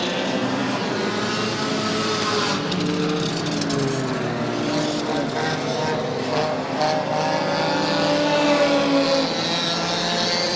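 Dirt modified race cars roar around Airborne Speedway in Plattsburgh, engines droning and shifting pitch as they pass, steady and loud throughout beneath a race announcer's commentary.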